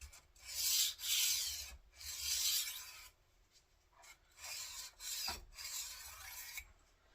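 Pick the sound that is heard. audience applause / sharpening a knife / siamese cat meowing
sharpening a knife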